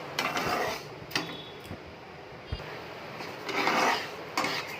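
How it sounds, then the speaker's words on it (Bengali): Dry lentils (dal) being roasted in a kadai wok while making khichuri, heard as intermittent scraping and rasping of a spatula against the pan with light rustling, moderately close with no voices. "এই যে কড়াই বসিয়েছিলাম বললাম, এই যে আমি ডাল ভেজে নিচ্ছি"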